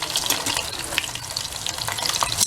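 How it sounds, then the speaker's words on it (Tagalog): Lumpia fry in a pan with a continuous close, crackling sizzle and scattered sharp pops throughout. "piniprito ko na yung lumpia ni JJ."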